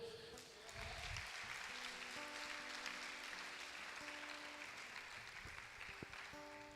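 A church congregation claps in praise during a sermon, steady applause that carries on throughout with soft sustained keyboard notes playing beneath it.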